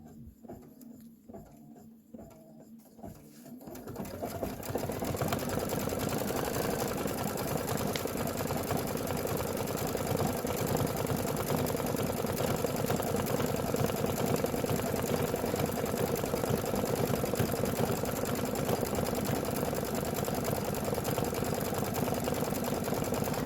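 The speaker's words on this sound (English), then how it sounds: "I'm just going to put my foot down and stitch." A sewing machine stitches the outline of a witch hat brim, starting with a few slow stitches before settling into a steady, fast, continuous whir that runs alone and close for the rest of the clip.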